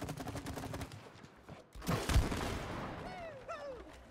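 Gunfire from the video game It Takes Two, a short burst of shots near the middle of the clip with game effects and sliding tones afterward, with voices talking over the action.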